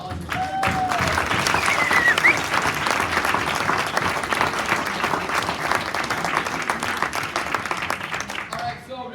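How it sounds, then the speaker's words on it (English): Sustained applause fills a wrestling banquet hall, a steady wash of many hands clapping that holds for several seconds before tapering, with a speaker's voice briefly over it at the start and end. "So please give Tyler another round of applause as well"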